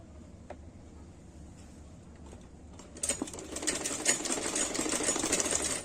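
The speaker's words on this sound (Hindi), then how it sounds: "ये देखिए मैं आपको सिलाई करके बताती हूँ।" Sewing machine stitching the drawstring casing of an A-line petticoat, starting with faint hum and clicks, then running into a loud, rapid, steady stitching rattle close by for the last few seconds.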